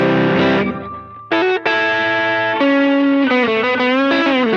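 Electric guitar played through a Boss LS2 pedal with the distortion rolled back, ringing sustained chords and notes with a light drive, loud and close, with no talking.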